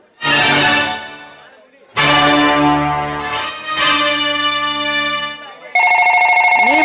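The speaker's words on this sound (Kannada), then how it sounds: "ನಂತರ ರವಿಕಾಂತನಿಗೆ ಫೋನ್ ಮಾಡುತ್ತೇನೆ" A loud electronic phone ringtone in a stage play plays a repeating melodic tune in bursts with short pauses, ending in a higher, brighter phrase.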